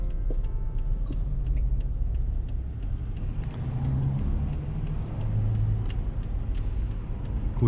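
A Toyota Land Cruiser J200 on a test drive, with a steady low engine and road drone heard from inside the cabin, a faint rattle or jangle now and then, and no speech.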